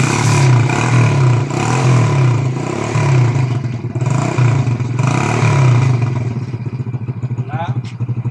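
A motorcycle engine runs close and loud, revving in repeated rhythmic surges about once a second before settling to a slightly lower idle near the end.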